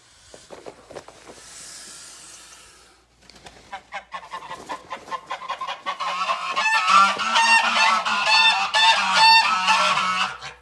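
A goose sitting on a nest of duck eggs on a farm honks repeatedly and loudly, building into a dense, overlapping run of harsh calls over soft background clucking, with no talk.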